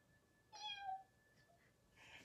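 A small cat lets out one squeaky little meow close by in a quiet room, followed by a faint second chirp-like call; no one speaks.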